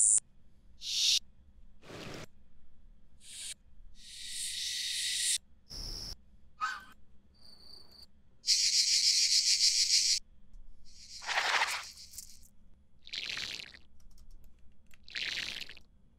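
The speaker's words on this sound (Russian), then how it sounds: "Цикаду мы обработаем нашим грейн питчем." A cicada sound effect prepared for game voiceover work, with a dense, bright buzzing burst among scattered clicks and short noisy bursts, heard alone and fairly close.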